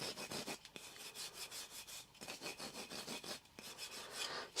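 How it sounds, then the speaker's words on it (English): A Kirby vacuum cleaner fitted with its Turbo Accessory Kit sands a piece of wood, producing quiet rhythmic rasping strokes in close succession, a soft back-and-forth scrubbing with no talk. "use the Kirby as a very competent sander, really."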